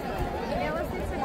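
A dense, steady hubbub of a large crowd of spectators chattering at a village palkhi procession, continuous babble with no single voice standing out.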